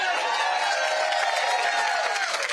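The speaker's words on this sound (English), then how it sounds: "in Rome, Georgia, we got a fired up crowd" A fired-up crowd at a political rally in Rome, Georgia, a dense, continuous roar of cheering and clapping voices, loud and sustained throughout.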